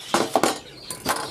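Knife slicing vegetables into rings on a board for parrots: a few soft, close cuts and taps, irregular and quiet, with no talking.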